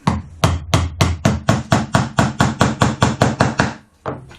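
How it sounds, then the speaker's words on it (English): A hammer drives a nail into wood of a planter box in a quick, even rhythm, about fourteen sharp close-up blows, then a brief pause and one more hit. "And you just want to hammer it in, make sure things are still staying even."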